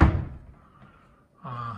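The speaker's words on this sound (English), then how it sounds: "There's the pantry door. This closes." A pantry door swings shut with a solid, low thunk at the start, followed by a quiet decay and a faint later knock or rattle, recorded close up in a house under renovation.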